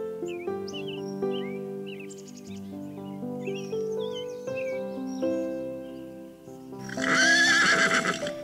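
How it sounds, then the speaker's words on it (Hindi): A horse gives a loud, shrill whinny near the end, after a stretch of gentle music with faint bird chirps. "मैं हूँ एक तेज घोड़ा।"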